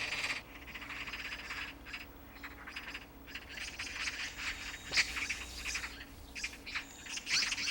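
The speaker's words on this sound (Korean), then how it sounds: "과수원 주변으로 새로운 까치떼가 모여들었다." A flock of magpies gathers around an orchard, giving repeated harsh chattering calls in uneven bursts, fairly close and busy, with no voices.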